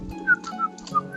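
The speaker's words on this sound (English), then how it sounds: "stroll up whistling." A person whistles a short tune while strolling, with three or four bright melodic notes rising and falling over a steady low hum, fairly close and alone.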